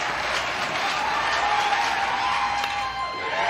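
Crowd at an NCAA baseball tournament game between Mississippi State and Miami, a steady roar of cheering and whooping in a stadium, dense and sustained without pause, with no distinct talking over it.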